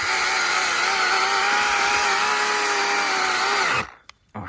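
GTM CS18/250BL cordless chain saw with an 18 V battery and 25 cm bar cutting wood, a loud steady high-pitched motor whine held for several seconds before cutting off abruptly, followed by a brief knock.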